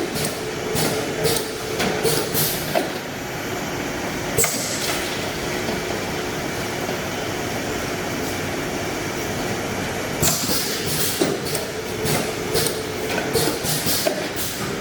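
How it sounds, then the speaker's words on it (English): An automatic filling and capping machine runs a 1000 ml fill, giving a steady mechanical whir and hiss broken by sharp clacks and bursts near the start and end of the nozzle cycle. "The filling nozzle will go down and up slowly"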